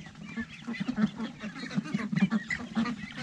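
Ducks kept by a poultry breeder beside their small pool quack repeatedly in a busy, overlapping chorus, close by and fairly loud.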